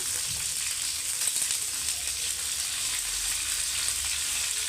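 Gongura leaves fry in a hot pan for chicken curry, a steady close hiss and crackle of sizzling oil that runs evenly throughout with no talking.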